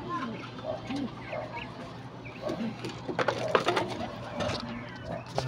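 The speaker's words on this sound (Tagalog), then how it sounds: "So yan mga kalapatids" Pigeons coo and murmur close by in a coop, soft repeated calls with some fluttering and rustling, while a person talks now and then.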